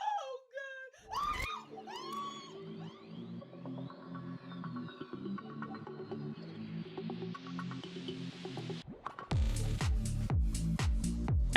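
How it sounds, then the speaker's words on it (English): A woman screams and wails at a squirrel that has crept into her room, her high, strained cries sustained over background music with a louder burst near the end. "This woman started screaming at the top of her lungs when she saw a wild animal creep into her room."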